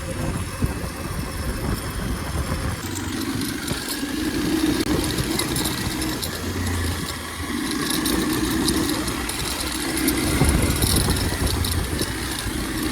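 A Kawasaki KLX230 motorcycle engine drones steadily through a ride, a loud continuous rumble that rises and falls a little with the throttle, mixed with wind noise.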